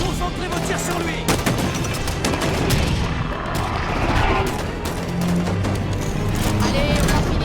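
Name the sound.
gunfire in the video game Halo 5: Guardians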